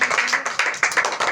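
Children clap their hands together in a quick, energetic burst of claps, close and loud, with no talking over it.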